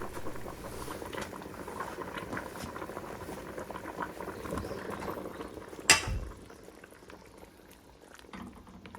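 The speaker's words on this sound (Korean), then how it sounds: "소금 간으로 마지막 하고 대파 넣어주시고 파락 끓여주시면은 이제 민어 맑은탕은 끝납니다" A pot of clear croaker fish soup with green onion bubbles and simmers steadily at close range, a continuous wet patter with a single sharp clatter partway through before the boiling continues more softly.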